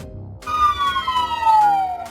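A Hungarian ambulance siren sounds a single loud, sustained tone that slides slowly downward, starting abruptly after a brief low rumble and holding steady to the end.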